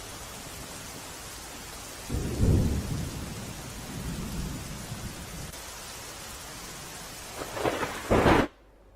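Steady rain falls while thunder rumbles in two heavy bursts, one early and one near the end, rolling low under the constant wash of rainfall before a sudden cutoff.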